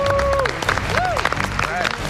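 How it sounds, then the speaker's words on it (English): Studio audience applause and cheering on a cooking competition show, steady dense clapping under loud voices and tonal music. "Give yourselves a round of applause."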